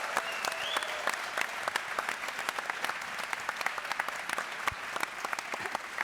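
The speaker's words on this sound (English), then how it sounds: "Big round of applause, please." A live audience at a GopherCon UK podcast recording gives a round of applause: six seconds of full, sustained clapping from many hands with a few sharper individual claps.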